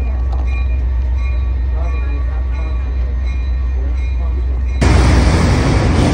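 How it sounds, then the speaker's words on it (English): A heavy steam locomotive, number 1309 on the Western Maryland Scenic Railroad, rumbles steadily close by, a low continuous roar that suddenly swells louder and brighter near the end, as if something passes right alongside. "1309 is running our train today"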